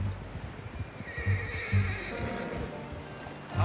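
In the game Red Dead Redemption 2, a horse whinnies and snorts while hooves clop in a few heavy, spaced steps, with light wind in the background.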